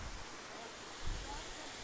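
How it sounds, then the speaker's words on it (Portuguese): A steady broadband rush of falling water rolls on without a break from a stepped, staircase-like waterfall at São Jacó in Lomba Grande, Novo Hamburgo. It is heard fairly close, with no clear individual splashes standing out. "Cascata parece uma escadaria."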